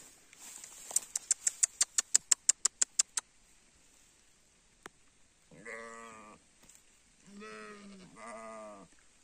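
Texel sheep on a farm in Zeeland, Netherlands, let out several close bleats in short bursts, after a quick run of rhythmic tapping clicks, in an otherwise quiet setting.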